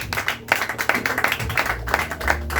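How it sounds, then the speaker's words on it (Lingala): A church congregation claps and applauds in a dense, irregular burst of hand claps filling a large room, with no talking over it. "acclamez pour la parole de Dieu"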